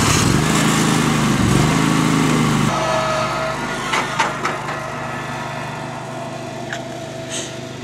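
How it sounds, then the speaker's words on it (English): Riding lawn mower engine running steadily, a loud buzzing drone that drops in pitch and settles partway through, with a few brief knocks and clatters over it and no talking. "you go get on your lawnmower."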